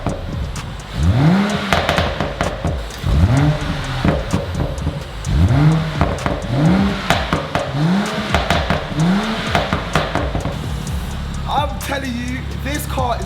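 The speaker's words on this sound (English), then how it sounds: "Listen to it now in sports mode." A BMW M135i with its exhaust flap open in sports mode revs repeatedly, five or six sharp rising blips in a steady rhythm, close and loud, with a voice talking over parts of it.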